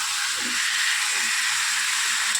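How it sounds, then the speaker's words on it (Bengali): Chicken frying in a pan for gondhoraj chicken, a steady bright sizzling hiss running continuously, fairly close, with faint low clatter underneath and no talk. "এটাকে ভালো করে আমরা একটুখানি ভেজে নিচ্ছি।"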